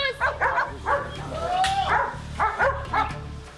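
A dog barks repeatedly in short yelping bursts during a police patrol through a Rio de Janeiro slum, close and loud, with a voice speaking between the barks.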